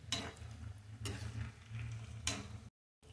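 Atta mathari dough snacks fry in oil over a low flame, giving a steady soft sizzle with a few brief stirring scrapes before the sound cuts off near the end.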